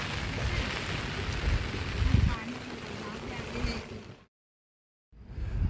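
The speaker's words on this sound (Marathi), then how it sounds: "बघा पाऊस किती पडतोय, लय जोरात आलाय." Heavy rain pours down at a riverside fishing spot, a dense steady hiss with wind buffeting the microphone, broken by a brief gap of silence before the downpour noise resumes.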